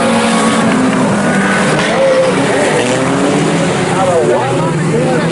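IMCA sport compact race cars roar around the Salina Speedway oval as a pack, their engines loud and sustained with rising and falling pitch as they pass, while an announcer talks throughout.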